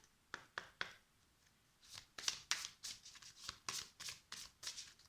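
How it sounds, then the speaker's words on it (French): Oracle cards are shuffled by hand before a card is drawn in a quiet room, a series of soft papery riffles and slaps in quick bursts, close and faint. "Donc là je vais tirer une carte avec les messages des anges."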